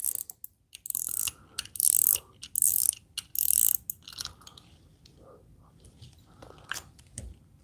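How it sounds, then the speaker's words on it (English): Ice fishing reel drag being unscrewed by hand, a rapid ratcheting click-clack of pawl and gears in bursts over the first few seconds, close and crisp, then fading into softer handling sounds. "you just unscrew the drag."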